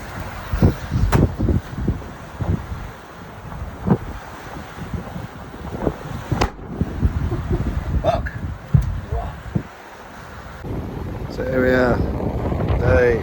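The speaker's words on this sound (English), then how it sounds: "There's too much wind." Strong wind buffets a sailboat at sea on an Atlantic crossing from Bermuda to the Azores, roaring and gusting against the microphone with sharp knocks and creaks, while a person talks briefly near the end.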